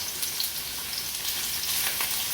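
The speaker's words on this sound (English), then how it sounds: "So I'm gonna fry it, I'm gonna saute it here along with the garlic" Pieces of beef sauté with garlic in a hot pan, giving a constant close sizzle with scattered crackles and pops throughout, with no talking.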